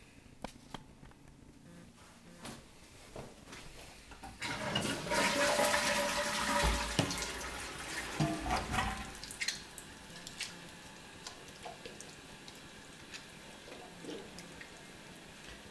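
A toilet flushes and its tank refills through a DIY toilet-tank sink, with a loud rush of water that builds in the middle and then settles into quieter trickling and dripping, with no talk.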